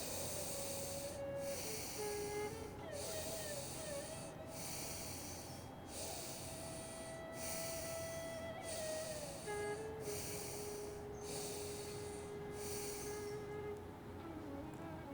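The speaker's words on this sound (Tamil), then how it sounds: "லெஃப்ட்லேயே மூச்சை உள்ளெழுத்து லெஃப்ட்லேயே மூச்சை வெளியே விடுங்க." Slow, steady breathing in and out through the left nostril during a seated yoga mudra exercise, a soft hissing airflow that repeats in about a dozen even cycles, close and quiet.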